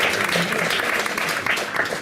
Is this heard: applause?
yes